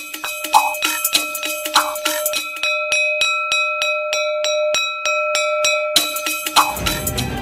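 A school bell in Nepal rings steadily in rapid repeated strokes, bright metallic tones sustaining between hits, with bursts of voices and noise at the start and end.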